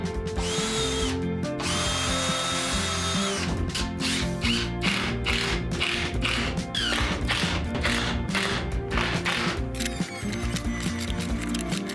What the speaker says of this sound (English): Like I said, pre-drill.